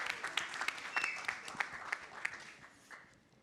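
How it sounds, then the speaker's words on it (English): Audience applause at a voter-awareness campaign launch event, a crowd clapping in a dense patter of sharp claps that gradually thins and fades toward the end. "let's give a huge round of applause to Siddhant"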